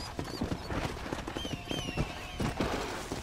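Horse hooves clip-clop at a steady trot in a video game, a rapid run of close, fairly loud thuds with faint whinnying and distant gunfire-like bursts behind them.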